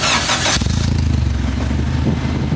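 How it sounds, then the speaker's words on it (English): A sleeper car's engine fires up after a brief hiss, catching quickly and settling into a deep, rumbling, slightly lumpy idle, loud and close with no talking. "Well, I'll start it up."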